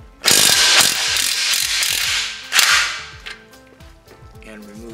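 A ratchet wrench loosens a bolt on a Mazda Miata differential during a quick-change differential job, giving loud, rapid clicking bursts from about 0.3 to 3 seconds before trailing off into quieter metallic ticks.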